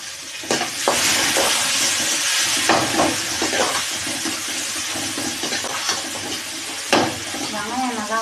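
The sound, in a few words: onions and tomatoes sautéing in a pan for poori potato masala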